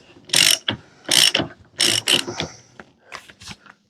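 A ratchet wrench tightening lug nuts on a Club Car DS golf cart wheel: loud close bursts of rapid clicking, three strong runs followed by shorter, quieter ones as the nuts seat.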